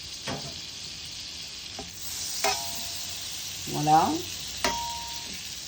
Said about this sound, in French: On laisse bien fondre le petit morceau de beurre.